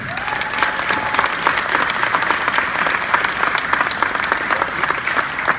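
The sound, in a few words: audience applause at JROTC ceremony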